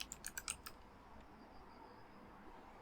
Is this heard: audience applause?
no